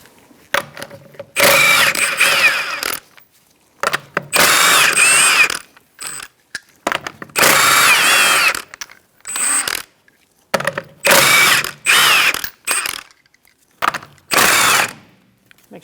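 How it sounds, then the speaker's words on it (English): A socket wrench with a 21mm socket removes the wheel lug nuts on a 2004-2009 Mazda 3. Loud, close bursts of rapid ratcheting run a couple of seconds each, separated by short pauses. "Using a 21mm socket, we're going to remove our lug nuts to remove our wheel."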